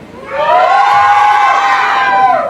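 A group of friends screaming and cheering together, a loud sustained shout that swells, holds high and steady for about two seconds, then fades.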